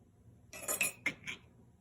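A spoon clinks and scrapes against a bowl in a few quick strokes while sugar and cinnamon are stirred together. The strokes are short and distinct over a quiet background.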